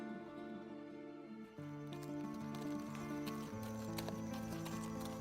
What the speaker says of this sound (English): we'll need a horse